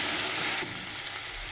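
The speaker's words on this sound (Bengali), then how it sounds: "মটরশুঁটিটা দিয়ে দিলাম, পরিমাণ মতো নুন দেবো, হলুদ দিয়ে দেবো, স্বাদ মতো মিষ্টি, একটু ভালো করে নেড়ে চেড়ে দেবো" Lentils and mixed vegetables with peas, salt, turmeric and sugar sizzle steadily in a pan while being stirred, a soft continuous frying hiss that eases slightly partway through.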